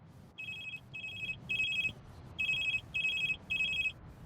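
A mobile phone ringtone rings in bursts of bright electronic trills, three pulses, a brief gap, then three more, over a low murmur of background noise.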